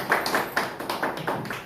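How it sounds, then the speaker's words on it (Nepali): A church congregation at a Thanksgiving and Christmas service claps to thank the pastor, a short round of fairly close applause in uneven rhythmic bursts. "उहाँलाई हामी ताली बजाएर एकचोटि फेरि हामी धन्यवाद दिन चाहन्छौँ"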